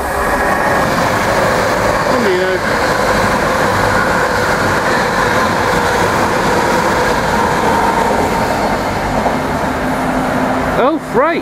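A loud freight train rumbles past close by with steady rolling wheel noise and occasional metallic squeals, continuous throughout, at Banbury.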